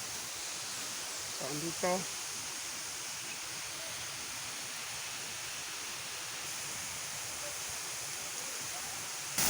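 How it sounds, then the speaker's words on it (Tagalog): A waterfall in Upi, Maguindanao del Norte, pours down over large rocks, a steady broadband rushing roar that fills the scene, with someone speaking briefly over it. "So, ito yung falls kung saan manggagaling dito sa taas, pababa."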